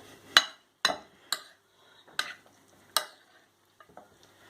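Cod being mixed with parsley, red onion, garlic and pepper in a bowl, heard as five or six distinct scraping, clinking strokes spaced apart by short silences, close and fairly loud with no talk.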